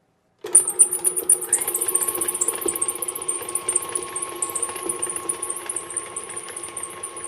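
An electric mixer starts abruptly and runs steadily, creaming butter for pound cake batter with a rapid mechanical whir and rattling beater ticks, close and fairly loud, with no talk over it.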